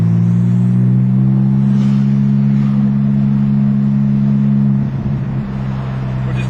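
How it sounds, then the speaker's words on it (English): A 2005–2008 Porsche 997 Turbo with a Fabspeed muffler bypass, sport catalytic converters and straight pipes to the factory tips holds a loud, deep, steady exhaust drone close by, then eases off and dips near the end. "All this car has on are two race imported catalytic converter sport cats and straight pipes going to the factory tips."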